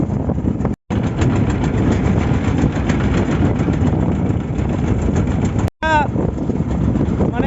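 A trawler boat engine chugs loudly and steadily at close range on the choppy Meghna River, drowning out other sound, with two brief cutouts in the recording.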